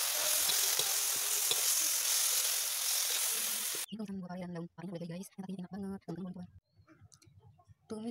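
Bitter gourd leaves and small bitter gourd stir-frying in a pan with salt and seasoning give a loud, steady hiss for the first half, then the sizzle cuts out and someone talks.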